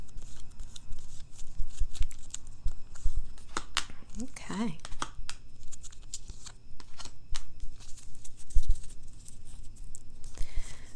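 Tarot cards are shuffled in short riffling and slapping bursts, close by and moderately loud, while a voice speaks now and then over them.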